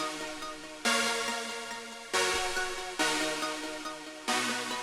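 Wide sawtooth synth chords layered with a softer arpeggiated pluck for a melodic trap beat, sustained blocks changing roughly every second, loud and dense with no voices.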